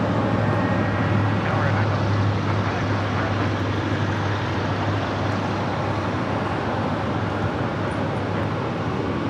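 Airliner in from Shanghai taxiing across runway 25 right at LAX, a loud steady engine roar and rumble held for the whole stretch with no letup.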